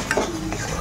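A spoon scrapes and clinks in a pan of Bengali kacha kolar kofta curry, a couple of quick metallic taps followed by soft stirring against a low background hiss.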